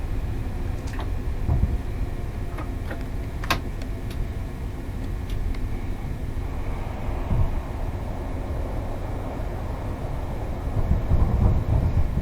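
A Class 377 electric train braking in Train Simulator on the Brighton to London line, a steady low rumble of wheels and motor with squeaks and clicks early on, swelling slightly louder near the end, with no talking.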